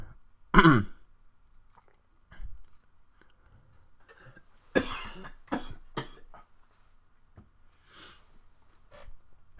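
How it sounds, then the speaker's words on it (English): A person coughs several times: a hard burst at the start, then a cluster of harsh coughs later, with throat clearing between quiet pauses. "And I'm still coughing."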